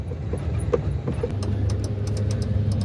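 Dump truck at a landfill, a Constellation model tipper truck: a steady low diesel engine rumble close by, with light clanks and scattered higher clicks over the drone.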